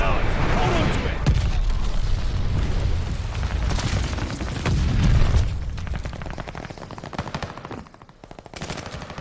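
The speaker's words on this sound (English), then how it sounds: "enemy glide bomb incoming" An enemy glide bomb detonates during a Call of Duty: Vanguard match on the Paradise map, a loud booming blast amid constant rapid gunfire and crackling combat noise, with a player talking over it.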